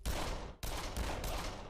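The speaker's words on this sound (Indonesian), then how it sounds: "Tak puas dengan itu Sachi kemudian menembak Vedanta" Rapid gunfire from a film shootout scene, with loud repeated shots in quick bursts split by a short break, dense and sharp with no talk.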